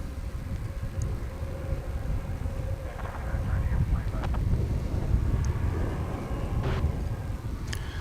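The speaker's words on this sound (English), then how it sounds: "It's American Flight 2969. Phoenix bound. It's an Airbus A321." An American Airlines Airbus A321 airliner at DFW airport produces a steady, distant jet engine roar, a broad rumble that swells slightly midway with faint scattered background noises.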